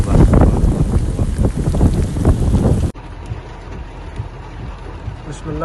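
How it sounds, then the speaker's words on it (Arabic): Heavy rain falls at night in Al-Qurayyat governorate, a dense roaring hiss with wind buffeting the microphone, then cutting abruptly to a quieter, steadier patter. "أمطار غزيرة ما شاء الله تبارك الله"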